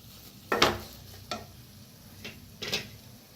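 Potato curry stirred in a pan: a few separate scraping strokes of a spoon against the metal, sparse and moderately close, over a faint low sizzle, with no one talking.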